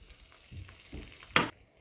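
A spoon stirs a red pasta sauce seasoned with vinegar, black pepper and Italian seasoning in a pan, making soft sizzles, a few scrapes and one sharper clack near the end, all close and fairly quiet.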